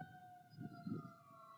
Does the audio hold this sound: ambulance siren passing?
yes